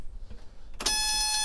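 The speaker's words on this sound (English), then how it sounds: "That buzzer here is a low air buzzer." A low air pressure buzzer in a Mercedes Unimog FLU419 SEE tractor cuts in abruptly after a quiet moment, a steady, loud electronic tone that holds continuously to the end.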